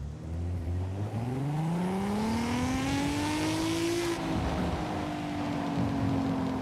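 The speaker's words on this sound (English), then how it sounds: "It sounds like a VQ engine, but a little bit better" A Nissan engine in Forza Horizon 5 climbing through the revs, its tone rising smoothly and then holding at a high, buzzing pitch, loud and close with no talking.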